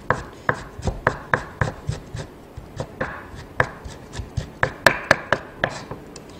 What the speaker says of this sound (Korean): 편 썰은 고기는 채를 썰어주시고, 여기서 가늘어야지, 얇게 썰어줘야지 다지는 게 수월해집니다